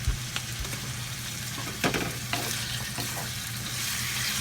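Chicken sautéing in a pan with garlic and onions gives a steady close sizzle with a few sharp clatters and stirring scrapes, no voices.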